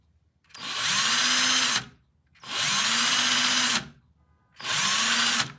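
A motorcycle ignition box tester spins up three times in a row, each a loud whirring motor burst of about a second and a half with a rising then falling pitch, separated by short pauses, checking vintage British bike ignition coils.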